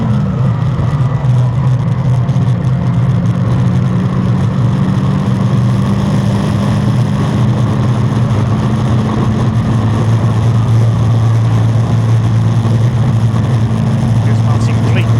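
Caterham Sigma 150 and Sigmax race cars lap Thruxton circuit in a steady, loud engine roar with a droning tone that shifts slowly in pitch, with race commentary running over it.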